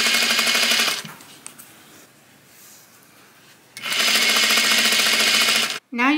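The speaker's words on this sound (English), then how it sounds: "I will be stitching that at a 1/2 inch seam allowance all the way down the center back" A sewing machine stitches the center back seam of a double-faced wool coat in two loud, steady runs separated by a quiet pause, with a brief mechanical clunk at the end.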